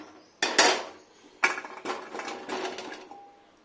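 Taro pieces dropped into a pressure cooker for boiling, a few loud metallic clatters and knocks with rattling in between.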